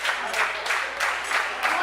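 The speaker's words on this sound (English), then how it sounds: "And the people here at the Chop Shop cheering Gracá on." A crowd at a Chop Shop wrestling show cheers and claps in repeated swelling bursts, a dense roar of voices and applause rising and falling about every half second, close and full.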